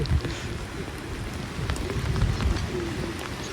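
Heavy rain falls steadily outdoors at the Bukovel resort, a dense close patter on surfaces with a few scattered drops standing out, and no voices over it.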